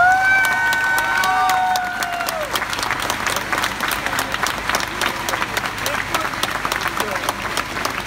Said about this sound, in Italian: Sentire gli applausi forti, forti per Serekane, Serekane!